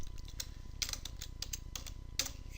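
Fingers tapping out a CAPTCHA on a computer keyboard, a quick run of faint, close key clicks over a low background hum, with no talk.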